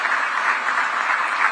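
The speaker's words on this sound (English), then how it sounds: "may I request the audience to just give us 2 rounds of applause, one for Angola" Audience applause at the 44th SADC heads of state summit, a dense steady wash of clapping from a large crowd with no talk over it.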